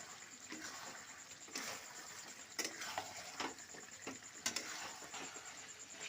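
Chicken masala stirred and fried in a pan, quiet scraping strokes of a spatula against the metal at irregular intervals over a soft, continuous sizzle.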